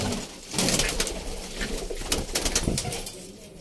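Low, soft pigeon coos close by, from breeding pigeons with young, repeating over a few seconds, with some rustling and a brief flutter of wings.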